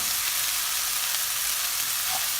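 Broccoli and carrots being stir-fried with onion and spices in a pan, giving a steady, loud, close sizzle that continues unbroken with no voices.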